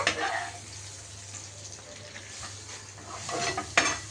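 Mango rice frying and being stirred in a pan, a steady sizzle with scraping stirs throughout, ending in a couple of louder clinks against the pan near the end.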